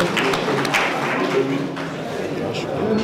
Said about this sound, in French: Vos applaudissements, s'il vous plaît, pour nous inviter